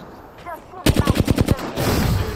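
Gunfire in the Apex Legends video game during a ranked arenas match: a rapid burst of about eight loud, evenly spaced shots, followed by a rough, noisy rumble.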